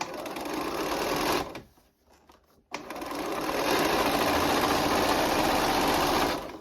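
A sewing machine stitches a fleece cuff onto fabric in two close, loud bursts of rapid whirring, split by a short pause, with no talking over it.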